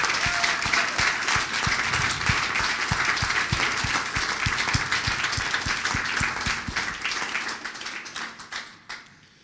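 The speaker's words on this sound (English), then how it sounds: "Give him a round of applause." Audience applause at a Royal Academy of Culinary Arts plenary meeting, a dense and steady round of many hands clapping that holds strong before gradually thinning and fading out near the end.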